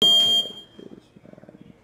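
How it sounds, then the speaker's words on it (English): A workout interval clock buzzer sounds one loud, sharp electronic blast for about half a second, then cuts off, and quieter murmuring follows. "Buzzer. Turn this clock off."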